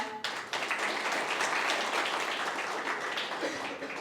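An audience applauds steadily with dense, even clapping that starts suddenly and holds without a break, then thins a little toward the end.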